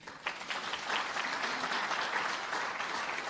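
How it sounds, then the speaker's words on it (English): Audience applause for the organising team at the Curaçao Export Week 2023 event, a steady, dense round of clapping from a crowd that fills the whole stretch at even strength. "Would like a big hand of applause for the team."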